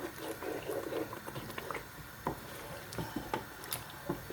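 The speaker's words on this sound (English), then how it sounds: "I'm just stirring it till it starts bubbling." Yogurt stirred in a cooking pot for chicken biryani, with a spoon scraping and clicking against the pot over a soft, steady wet sizzle, close and continuous without speech.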